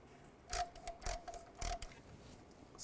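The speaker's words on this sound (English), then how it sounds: "Now you want to go around and torque these to 89 inch-pounds." Bolts on a Chevy Trailblazer timing cover being torqued to 89 inch-pounds with a ratchet, giving a few quiet clicking bursts spread across a near-silent background.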